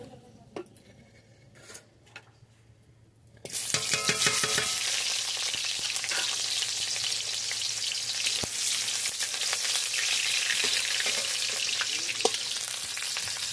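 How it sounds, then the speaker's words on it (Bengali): Onions hit hot oil in a heated wok with a sudden loud sizzle, then keep frying in a steady, dense crackle, with occasional scrapes and stirs against the pan. "পেঁয়াজটা ভাজা ভাজা হয়ে এসছে"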